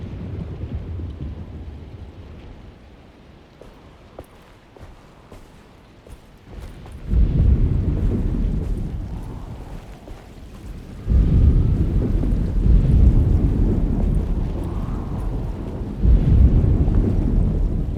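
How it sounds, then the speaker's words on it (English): Thunderstorm in the game Alone in the Dark: deep rolling thunder swells in several long, loud waves over steady rain and wind, starting quieter then surging in three heavy rumbles. "Just keeping an eye out for the storm."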